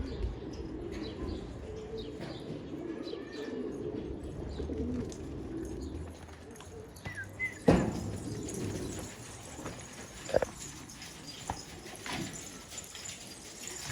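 Pigeons coo softly on a rooftop loft, faint and intermittent against a quiet outdoor background, with a few brief sharper sounds and a wing flutter or two.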